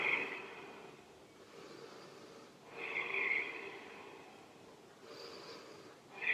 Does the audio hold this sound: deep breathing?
yes